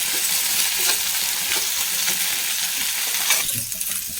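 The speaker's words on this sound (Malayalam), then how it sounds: "വെണ്ടയ്ക്ക ഇത്രയ്ക്ക് വഴണ്ടാൽ മതി" Okra sautéing in a pan for a Kerala-style roasted-coconut sambar, a steady close sizzle with a few scraping stirs of a utensil, alone without talk.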